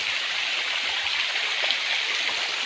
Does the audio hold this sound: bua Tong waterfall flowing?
yes